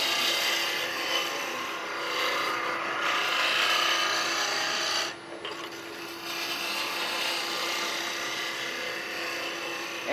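A roughing gouge cutting spinning wood on a lathe while turning a three-legged stool, producing a continuous rough, rasping scrape with a steady motor hum beneath, briefly easing off midway before resuming.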